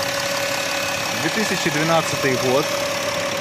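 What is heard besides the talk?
2012 Volkswagen Touareg 3-litre V engine idling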